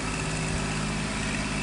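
A truck engine idles close by, steady low rumble with a constant hum, running alone without talk.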